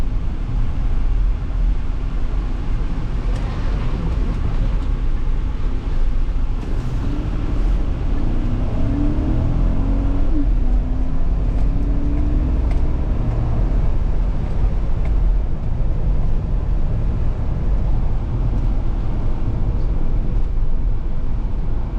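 A black 2016 Chevrolet Tahoe police 4x4 SUV with a V8 drives along, heard from inside as a steady low road and engine rumble with light wind noise and no talk.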